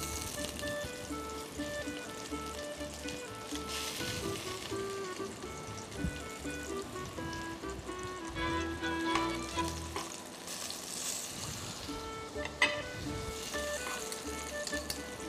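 Vegetables, including aubergine, fry in a pan with a steady dense sizzle and occasional stirring clatter, close and continuous without talk.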